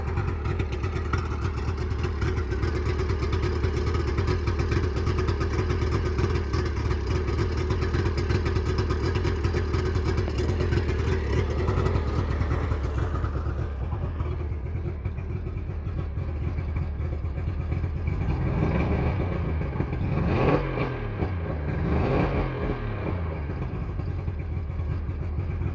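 A 1999 Mercury 90/65 jet oil-injected two-stroke outboard running on flushing muffs holds a steady, close, rattling idle, then its tone shifts lower and a couple of brief throttle blips rise and fall near the end.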